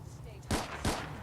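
Two sharp gunshots in Fallout 4, about a third of a second apart, fairly near and punchy against a faint low background.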